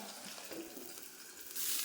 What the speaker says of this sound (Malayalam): മുളകൊക്കെ എൻ്റെ പൊട്ടിത്തെറിക്കാനുള്ള സാധ്യതയുണ്ട്